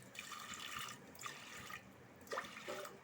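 Water pours in a few quiet bursts, splashing into a pressure cooker with short pauses between.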